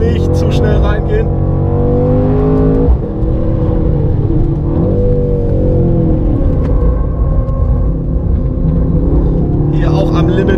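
A 2019 Mercedes-AMG C63 S Coupé driven at the limit around a race track, its engine roaring and revving loud and close throughout with pitch rising and falling through the corners, while someone talks over it.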